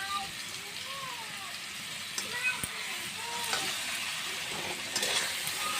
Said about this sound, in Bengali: ভালোভাবে মশলাটা আমি সাঁতলিয়ে নেব।